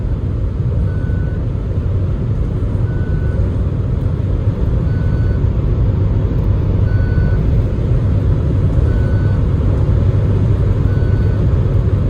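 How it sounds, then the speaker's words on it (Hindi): A Mahindra Scorpio SUV cruising at high speed, heard from inside the cabin as a loud, steady roar of engine and road noise, with a faint beep repeating at regular intervals throughout. "भाई धक धक सी तो हो रही है क्योंकि इतनी तेज चल रही है गाड़ी"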